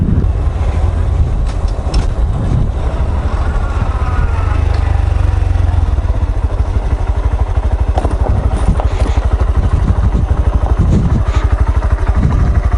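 Honda Grom motorcycle engine running steadily on a rocky trail, a continuous close mechanical drone with rough clatter and varying revs throughout, no talk.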